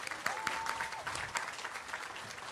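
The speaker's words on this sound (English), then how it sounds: "Let's all give them another round of applause." Brisk applause from a high school graduation audience, a thick patter of clapping hands, fairly quiet and continuous throughout.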